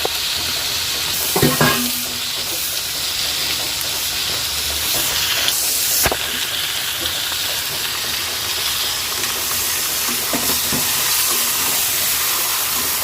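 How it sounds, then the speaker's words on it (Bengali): Marinated chicken fries in plenty of oil with browned onions, giving a loud, continuous sizzle and hiss, punctuated by a couple of sharp clanks of stirring. "চলো মাংসটা ভালো করে কষা হতে থাক।"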